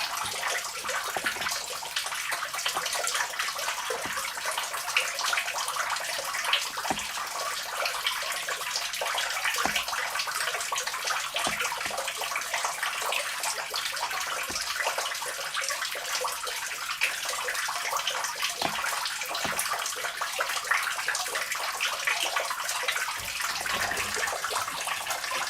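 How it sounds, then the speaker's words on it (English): Water pours and trickles off rock inside a coal mine at Brake Mountain House near Lower Lick Run, Webster County, West Virginia: a steady, close, hissing rush that runs throughout, with occasional sharp drips and clicks. "See all the water flowing off that, see all the water flowing off that rock there off the ways."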